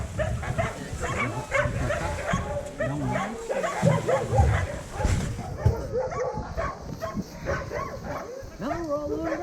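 Excited sled dogs bark and yip in a noisy chorus while being hooked up to run near Juneau, Alaska. Close, overlapping barks and whimpers keep going throughout, with people talking among them.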